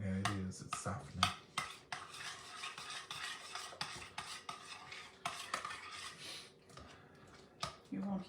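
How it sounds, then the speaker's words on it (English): Garlic sawdust salad stirred in a pot, a steady scraping and clinking of a utensil against the pot with occasional sharper knocks, fairly close, while people talk over it. "When you stir it, it'll work out better."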